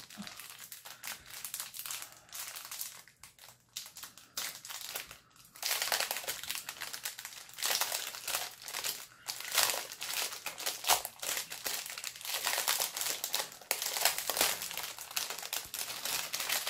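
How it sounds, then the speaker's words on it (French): Small plastic bags of diamond painting beads are handled and pulled open, making close crinkling and crackling with light rattles of the tiny beads, irregular and continuous, with no talk. "les diamants, j'ai quand même envie de les ouvrir pour regarder"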